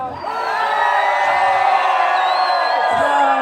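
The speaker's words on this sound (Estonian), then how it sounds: "Proovime, ma tahan kuulda mõnda kisa." A large crowd at a Seto midsummer bonfire shouts and cheers loudly, a dense sustained roar of many voices close at hand.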